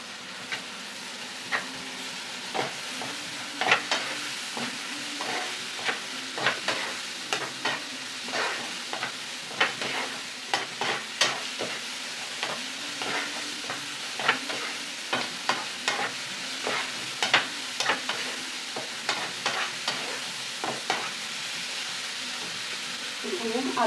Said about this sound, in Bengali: এখানে আছে ধনে গুঁড়ো, কাশ্মীরি লঙ্কা গুঁড়ো দিয়ে এটাকে ভালো করে ভেজে নেব।